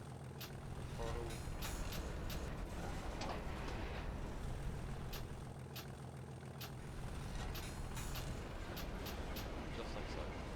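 A vehicle engine under throttle in the driving game CDC, a steady low hum with occasional clicks and knocks, held fairly quiet beneath someone talking.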